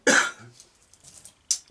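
A person coughs while doing needlework on eyelets and web stitch: a loud, close cough burst at the start, then quiet rustling and a second short cough near the end.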